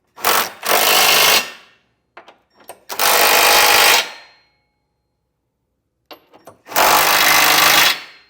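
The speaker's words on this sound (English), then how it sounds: "now I'll come back with a 22 millimeter size socket and snug all the hardware down" Socket wrench, likely a power or impact driver, running down trailer hitch hardware on a 2024 Honda Pilot: three loud, close, sustained whirring bursts of about a second each, separated by brief clicks and quiet gaps.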